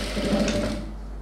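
A sewing machine stitching a blouse with green thread runs with a steady close whir that fades away after about a second, with no talk.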